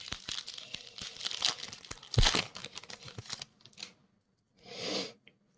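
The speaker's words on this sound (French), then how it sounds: "maintenant on va s'ouvrir les 3 méga packs" Yu-Gi-Oh mega booster packs being torn open, a steady run of crinkly foil ripping and crumpling close up, easing off and then returning in a short final burst.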